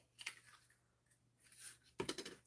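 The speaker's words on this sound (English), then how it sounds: "Snip that." Scissors snip through ribbon for a few quiet, close cuts, with soft blade clicks and rustling between them.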